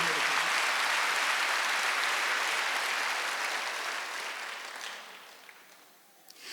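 A church congregation at a Wednesday worship service claps loudly and continuously, a dense wash of applause that slowly fades over several seconds.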